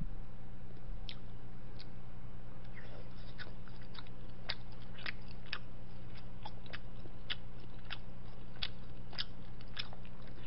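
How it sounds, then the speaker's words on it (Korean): Someone eats plain Korean blood sausage (sundae) at close range, with soft, irregular bites and chewing clicks over a steady low background hum and no talking. "그냥 순수하게 순대를 먹어볼게요."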